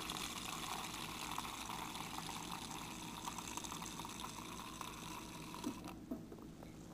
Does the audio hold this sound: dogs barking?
no